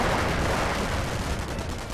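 Sniper rifle fire in the World War II strategy game Company of Heroes, part of a dense, loud wall of overlapping gunfire and battle din that stays steady for two seconds with no voices.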